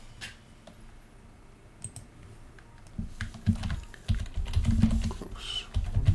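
Computer mouse clicks while navigating menus in EVE Online, scattered sharp clicks and some keyboard-like tapping, close up, getting busier and denser toward the end, with no talking.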